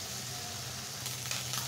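Onion, green chilli and small shrimp with a little turmeric fry in a pan, giving a soft, even sizzling hiss up close with a couple of faint crackles, brief and quiet, with no talking.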